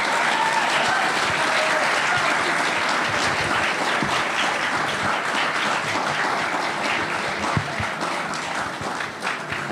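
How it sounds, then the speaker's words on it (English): Sustained applause from a big crowd at an evening Shri Guru Puja program follows a performance, thick continuous clapping holding steady and easing slightly near the end. "Can we please have one more round of applause for that wonderful performance?"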